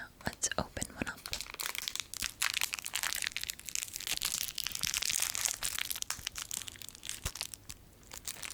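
Crinkly plastic packaging of Thai mango gummy candy is torn open and crumpled up close, with dense crackling and rustling throughout and soft whispering faintly beneath it.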